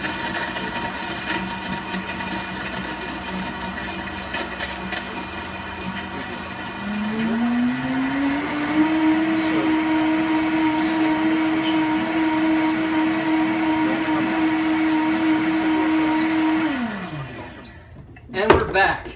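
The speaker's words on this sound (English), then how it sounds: "Just don't want to start a blender without a lid on it." A blender mixing a hurricane cocktail runs with a steady motorized whir for several seconds, then climbs to a higher, louder pitch and holds before cutting off, followed by a couple of clunks.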